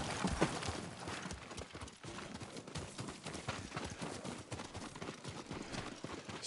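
Horse hooves clip-clopping in a video game, a continuous fast galloping patter of many hoofbeats, steady and moderately close, with no talking over it.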